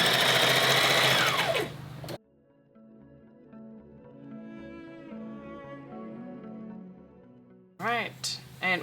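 A sewing machine stitches a Mariza garden party dress in a steady, even burr of needle strokes. Short bursts of louder noise sit at the start and end of the stitching.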